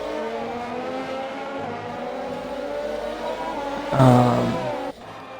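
Race cars in an Xbox One racing game at the British Grand Prix circuit, engines droning with layered harmonic tones, one car swelling louder as it passes near the end.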